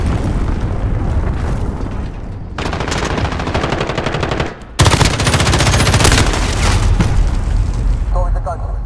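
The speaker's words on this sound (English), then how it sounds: "Cruise missile launched." Cruise missile strike explosions in the video game Modern Warfare: loud booming blasts and rapid gunfire bursts, with a sharp, heavy impact near the middle followed by continuous crackling detonations and faint game voice lines.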